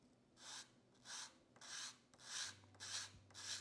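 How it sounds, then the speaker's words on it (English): Sandpaper rubs across the bottom of a clarinet reed in steady back-and-forth strokes, about six soft, close rasps at an even rhythm. "with the sandpaper, I'm gonna sand the bottom of the reed"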